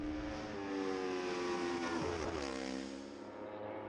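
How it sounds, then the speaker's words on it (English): A bespoke Italian-built racing motorcycle at the Manx Grand Prix Junior race howls loudly past, its high-pitched engine note sweeping down in a clear Doppler drop as it passes close by. "That engine absolutely howling, a really exotic, bespoke, Italian-built machine that Francesco's riding there."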